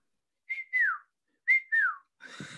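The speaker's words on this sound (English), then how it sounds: "Right, and I whistle it now." A person whistles a 2001 pop tune in two short, close, clear phrases, each a held note sliding downward, followed by a brief breathy sound.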